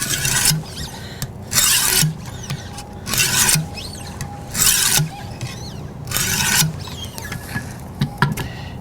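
A knife blade rubs back and forth along a coarse 200-grit stone on a Wicked Edge WE130 sharpener, in repeated rough gritty strokes of about half a second each, close and loud, with short pauses between strokes.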